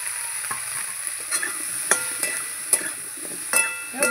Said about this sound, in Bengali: এবার ভালো করে ফুলকপিটাকে ভেজে নেব।